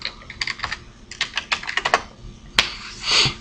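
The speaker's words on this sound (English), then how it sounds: "I'm going to go ahead and type it right here in my address bar." Quick bursts of keystrokes on a computer keyboard, typing a web address into a browser's address bar, close and clear with short pauses between clusters of clicks and a single sharp tap near the end.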